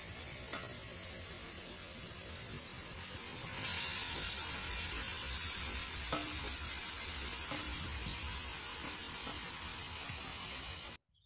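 Chicken sizzles and fries in a pan of masala for papaya chicken curry: a steady, close hiss with a few soft scrapes and clinks of stirring, then it stops abruptly at the end.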